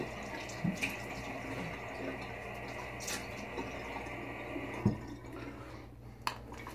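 Tap water runs steadily at low volume while a face is wetted before a straight-razor shave, with a few faint splashes and drips scattered through the soft flow.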